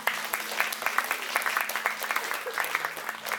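Sustained crowd applause at a Malay-language poetry and cultural ceremony for Hari Mastera, many hands clapping at a steady pace, heard from a moderate distance without any speech over it.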